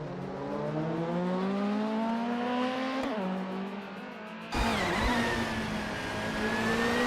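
Racing cars in a video game, including a 2008 Volvo C30, rev and shift at the Circuit du Var chicane track, their engines whining upward in repeated climbs, with a sudden louder surge partway through.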